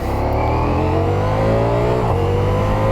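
A 2023 Ducati Diavel V4 motorcycle accelerates hard, its loud, close engine note rising steadily in pitch over a few seconds with wind rush behind it.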